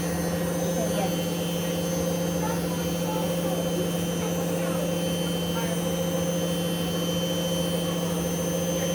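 A Hoover One Touch washing machine spinning at 1000 RPM makes a loud, constant whirring drone with a steady motor whine, unbroken from start to finish.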